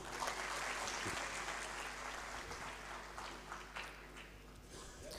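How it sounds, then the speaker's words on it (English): A large crowd applauds steadily at an academic summit, a dense wash of clapping in a big room that carries on throughout. "I think you should clap for him"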